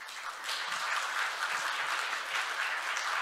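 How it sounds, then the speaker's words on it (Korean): Audience applause fills a hall at an international patent court conference, a steady wash of many hands clapping that swells after a brief start and continues evenly throughout, with no talking over it. "큰 박수 부탁드립니다."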